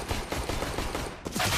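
Rapid gunfire from a Counter-Strike match at a major esports tournament, a dense fusillade of repeated shots with a brief gap before another burst, loud and close with no talk.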